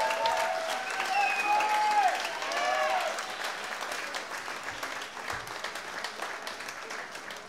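Crowd applause rings out for both grapplers after a drawn submission-grappling match, sustained clapping with cheers and a few whistles early on, gradually thinning toward the end.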